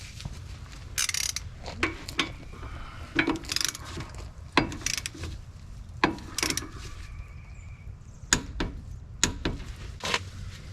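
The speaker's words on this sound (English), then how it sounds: "Ratchet wrench is the key here." A ratchet wrench turns the upper and lower strut bolts during a Chevrolet Tahoe Z55 Autoride suspension rebuild. Short bursts of clicking ratcheting come in several separate runs, close and fairly quiet over faint shop background.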